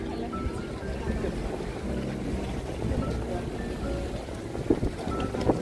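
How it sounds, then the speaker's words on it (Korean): Strong wind blowing through the streets and canals of Venice roars as steady, close microphone buffeting with low rumble throughout. "와, 바람 너무 많이 부는데?"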